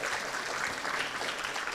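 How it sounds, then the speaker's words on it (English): An audience claps for students at a university public lecture, a steady, fairly quiet wash of applause that continues without pause. "Give applause for our students here."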